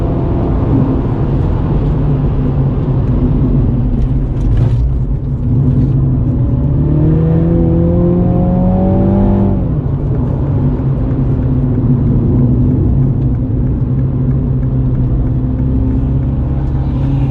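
A stock Mini Cooper (F56) engine on a race track drones steadily and loudly, its pitch sweeping up and then dropping as it accelerates and eases off, with a constant rumbling underneath.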